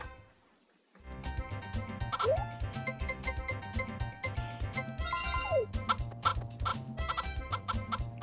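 Video-game chickens from Harvest Moon 64 cluck repeatedly over cheerful game music, the short clucks clear and close with brief chime-like tones mixed in.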